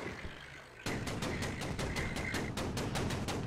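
Rapid automatic gunfire in a video game, aimed at a helicopter, bursts into a dense, loud run of evenly spaced shots after a quieter opening, continuing steadily to the end.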